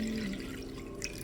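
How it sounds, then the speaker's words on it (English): Water pours into a container holding a lit candle wick, a short steady trickle and splash heard up close with no talking. "Pour some water in."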